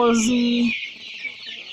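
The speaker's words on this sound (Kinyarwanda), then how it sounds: "murabona inkoko nyinshi cyane imbere yanjye hano" Sasso-breed chickens cluck close by in a flock, a loud drawn-out call at the start giving way to softer scattered clucks and shuffling.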